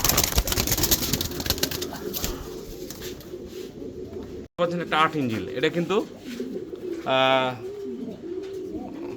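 Fancy pigeons from Natore coo close by in repeated soft, throaty bursts, with someone talking over and between the calls.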